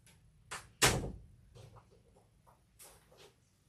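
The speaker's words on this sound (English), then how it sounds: "Let me close the door." A door swings shut with a single soft thud in a quiet room, followed by faint rustling and light handling noises.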